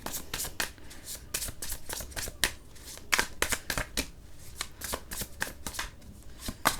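Tarot cards being shuffled by hand in a steady run of crisp riffling bursts, close and fairly loud, with no talk over them.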